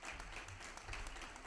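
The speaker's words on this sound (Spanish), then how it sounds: "Recibir con un aplauso a Esteban Navarro Soriano" Audience applause at an award ceremony for a short-story prize, a steady wash of many hands clapping at moderate level with no voices over it.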